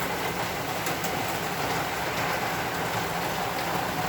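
Constant loud sizzling hiss fills the whole clip as garlic, onion and tomato sauté hard in a hot pan for pinakbet, with no voices.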